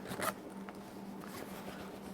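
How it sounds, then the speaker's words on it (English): A full-length zipper on a faux leather jacket is pulled in one quick, close rasp, then soft handling noise continues faintly. "Then you get your full-length zipper"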